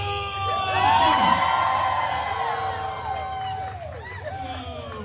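A crowd at a live Deadpool story-time stage show cheers and whoops loudly, with excited shouts and children's voices rising over a sustained hubbub of clapping that swells and then slowly fades.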